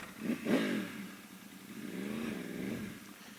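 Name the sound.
Yamaha R1 motorcycle riding, cat delete and ECU flash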